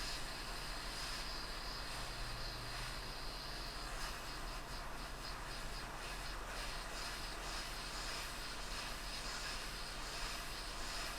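A hot air station steadily blowing over an iPhone 14 logic board to warm it while replacing the display connector, a continuous airy roar that holds the same level throughout with no talking.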